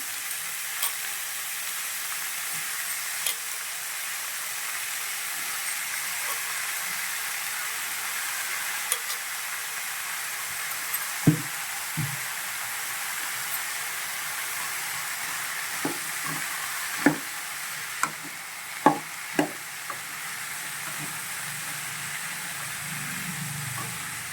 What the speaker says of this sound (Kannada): ಬೀನ್ಸ್ ಆದಮೇಲೆ ಆಲೂಗಡ್ಡೆ ಏನು ತೊಳೆದಿಟ್ಟಿದ್ನಲ್ಲ ಅದನ್ನು ಹಾಕ್ತಾ ಇದ್ದೀನಿ